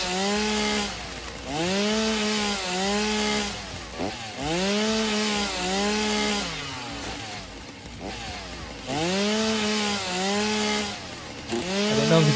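A chainsaw in the video game Satisfactory cuts through foliage in repeated loud revving bursts, each rising and falling in pitch with short pauses between cuts, close and alone without talk.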